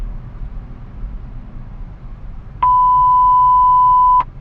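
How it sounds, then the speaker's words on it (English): A steady, pure beep tone from a Miami police radio scanner sounds for about a second and a half over faint radio static and hiss. "There comes the beep tone."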